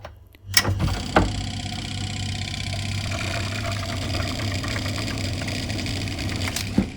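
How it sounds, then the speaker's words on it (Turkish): A water purifier pump filtering stream water starts up with a knock, then settles into a steady, close mechanical hum that runs on evenly, with another small clunk near the end. "Şimdi pompayı çalıştıralım."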